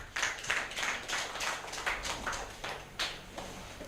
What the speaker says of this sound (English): Can you clap for Jesus Christ?